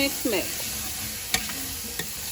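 A spoon mixes Haitian macaroni au gratin in a bowl, giving a few soft scrapes and clinks with a faint sizzling hiss underneath, close and fairly quiet, with no voice.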